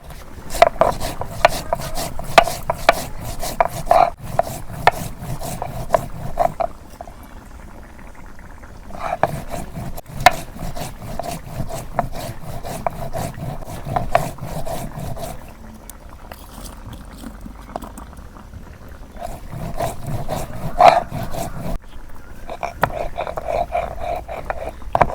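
Cumin seeds being ground into paste on a stone slab, a steady rough rubbing and rasping that pauses briefly in places, heard close with faint voices and household noise in the background.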